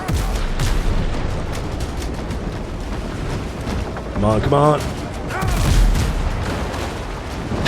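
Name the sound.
ship cannons firing in Windrose video game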